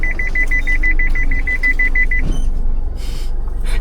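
Mazda BT-50 collision warning beeping rapidly in a fast, even series of about fifteen bright beeps, then stopping, over a steady engine and road rumble inside the cab on a sandy beach track.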